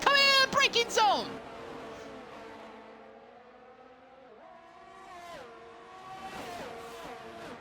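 Racing cars scream around the Brazil track in a racing video game, their engine pitches rising and falling through gear changes beneath a commentator's voice.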